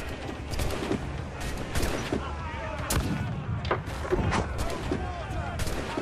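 Gunfire in Assassin's Creed IV Black Flag, a busy run of sharp cracks and booming shots at irregular intervals over constant game noise, with voices talking in between.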